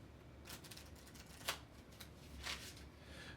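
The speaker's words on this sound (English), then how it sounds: "I'm going to give it a good shuffle because this is the first time I'm playing this." Thick linen-finish playing cards for the board game 1759 Siege of Quebec, Second Edition, being shuffled: soft riffling flutters with a sharper snap near the middle, faint and close, without talk.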